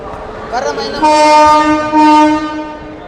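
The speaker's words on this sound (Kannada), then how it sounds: "ಅಷ್ಟರಲ್ಲಿ ಟ್ರೈನ್ ಕೂಡ ಬಂತು. ಸೊ ಟ್ರೈನ್ ಬಂತು" A train arrives at a station close by, sounding a long two-part horn over the rumble of its wheels, with no voices.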